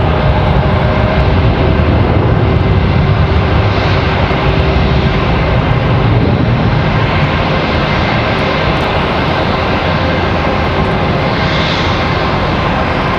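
A Gulfstream business jet at Raleigh-Durham International Airport gives a loud, constant engine roar that stays even and unbroken from start to finish.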